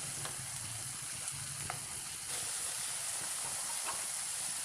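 Minced meat keema frying with chopped tomatoes in a pan, a constant soft hiss and sizzle with faint stirring, fairly quiet and uninterrupted.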